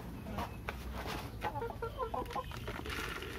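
Laying hens cluck in a busy run at evening feeding, with rapid close clucking phrases rising through the middle over a constant low farmyard murmur.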